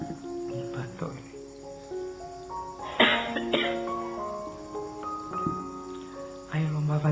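A man coughs and clears his throat a few times during a talk, the coughs short and close, with musical tones and room murmur beneath.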